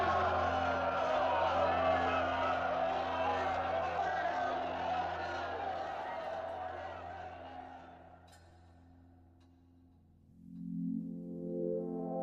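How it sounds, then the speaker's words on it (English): An archival recording of the 1936 Berlin Olympics opening ceremony, with a massive stadium crowd cheering Hitler in a distant, sustained roar that fades out, followed by steady tonal music entering near the end. "Now they're all cheering him, and the whole crowd have raised their right arm."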